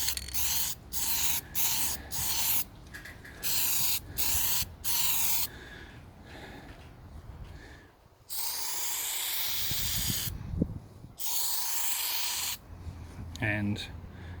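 Etch primer sprayed in short regular bursts onto a Ford Falcon XG divisional van, each hiss cut off by brief gaps, then two longer sustained sprays, with a faint clatter near the end.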